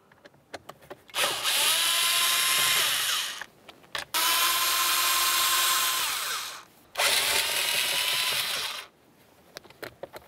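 A power screwdriver backs Phillips head screws out of the steering column of a 2004-2006 Scion xB, whirring loudly in three sustained bursts separated by brief pauses, with no talk.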